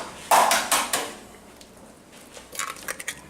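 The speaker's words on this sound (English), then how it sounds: "We're going to crack them whole into a cold pan and start from there." Three whole eggs cracked one after another into a cold pan, with sharp close taps and clinks of shell on the rim, followed by quieter light clatters.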